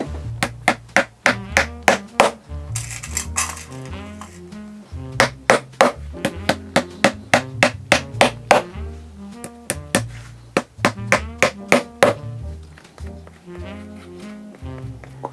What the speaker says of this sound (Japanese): この積み上げを鉄の釘で固定していきます。